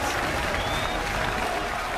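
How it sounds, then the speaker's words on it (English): An esports arena crowd at the 2015 League of Legends World Championship roars and applauds in a dense, continuous wash of clapping and cheering, steady and fairly loud throughout. "The crowd go wild."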